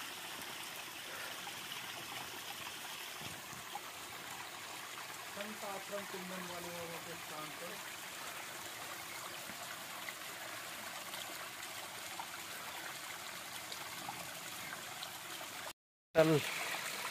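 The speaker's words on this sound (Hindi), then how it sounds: "कल कल की आवाज़ आ रही है कि पानी आ रहा है।" A village waterfall stream on a hillside, flowing over rocks after rain, makes a soft, constant rushing wash that continues steadily and drops out briefly just before the end.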